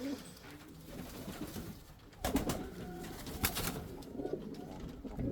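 A heavy male pigeon being held in the hand gives soft, low coos, faint and close, with some rustling handling noise and a louder burst midway.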